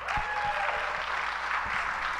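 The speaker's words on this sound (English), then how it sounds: "Let's give him a round of applause." Steady applause from an audience at an Ignite talk event in Dallas, moderately distant and even, with a few low thumps mixed in and no talk over it.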